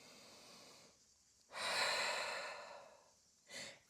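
Deep, slow breaths during yoga practice: a quiet exhale, then a long, loud inhale that tapers off, followed by the start of another breath, close and without speech.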